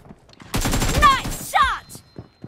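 Game gunfire from BGMI, a rapid burst of loud shots lasting about a second, followed by a shorter burst and a few scattered pops, with a voice speaking over it.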